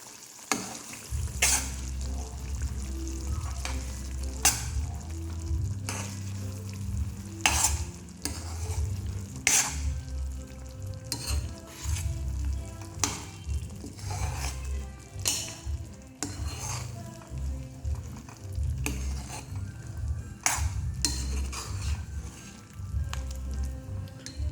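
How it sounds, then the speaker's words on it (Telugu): Chicken curry with coconut and cashews being stirred in a hot pan: a continuous low sizzle broken by repeated scraping and clattering strokes of a spoon against the pan, close and moderately quiet. "ఒకసారి అయితే కలుపుకుందాం."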